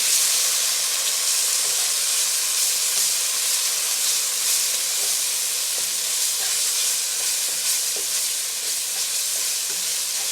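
Curry paste for goat curry frying in a pan, a loud, steady hiss and sizzle close up with faint stirring crackles throughout and no voices.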